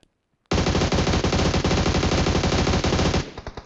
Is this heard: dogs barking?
no